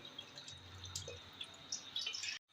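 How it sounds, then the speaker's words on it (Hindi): Water is poured close by into gram flour for kadhi, a faint trickle with small splashes and drips that ends abruptly. "यहाँ मज़ीद मैंने 2 गिलास के बराबर पानी डाल दिया।"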